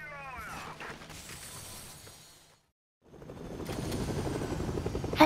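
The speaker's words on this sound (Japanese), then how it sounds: "ヘリで寄り道しながら移動してます。" A helicopter flies in the video game Fortnite, its steady whirring drone cutting out briefly midway, then returning and growing louder. A voice talks at the start.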